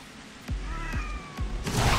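Cat meowing in the Tokyo Jungle video game, two or three short, close meows in quick succession over a low game soundtrack hum.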